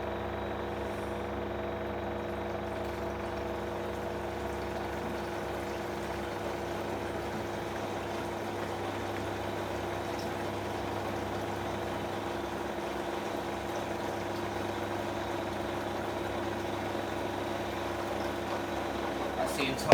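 An LG F1496AD5 washing machine drum spins at maximum speed during a turbo drum-cleaning cycle, a steady, sustained motor hum and whir that stays even throughout, with a short clatter at the very end.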